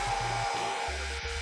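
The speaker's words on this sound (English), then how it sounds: "Then I take my hairdryer" A hair dryer blows on a wig with a steady whirring roar, close and constant, with low knocking bumps underneath.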